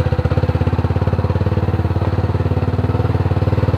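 A motorcycle engine runs close by with a steady, throbbing putter, continuous and fairly loud with no voices, in a passage near Pasir Padi Beach, Pangkal Pinang, Bangka.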